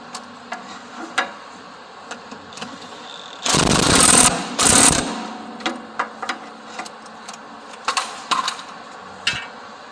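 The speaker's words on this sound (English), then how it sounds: "now I'm going to go ahead and tighten this back down" A ratchet tightens a bolt on a John Deere 636M mower with rapid, close ticking clicks, broken by two louder bursts of buzzing clatter in the middle, then more scattered clicks with no talk.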